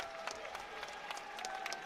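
Crowd at the Naval Academy Brigade Boxing Championships in Annapolis applauding after the final bout, a steady wash of clapping from a standing audience with scattered louder claps throughout.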